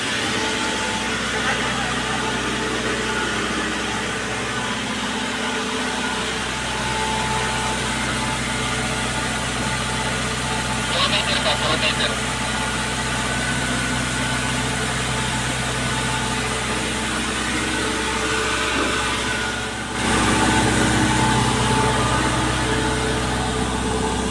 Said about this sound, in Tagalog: So generator supplying the fire pump 50 kVA, then 40 horsepower generator.